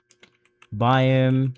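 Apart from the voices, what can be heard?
typing a command on a computer keyboard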